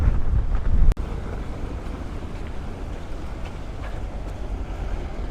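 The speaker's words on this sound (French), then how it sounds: "A lot of wind today." Strong wind buffeting a microphone on a coastal walking route near the Spanish border, a loud low roar that stays constant after a brief louder gust at the start.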